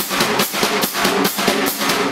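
Jazz brushes play the cheat pattern on a snare drum at a fast tempo. Steady swishing sweeps are punctuated by soft, regular taps, close and alone.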